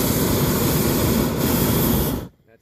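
A small plane roars with a steady, broad engine and wind rush close by during its takeoff run from a runway, holding level for about two seconds before cutting off abruptly.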